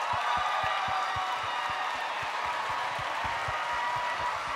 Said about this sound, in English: give a big round of applause to these talented musicians who join me on stage